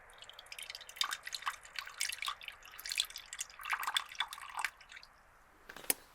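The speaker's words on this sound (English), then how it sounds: "Now, let's pour some water from this, shall we?" Cool water poured from a container in a desert-themed setting, heard as a close, soft run of drips and splashes that patter irregularly for several seconds before a final splash, with no talking.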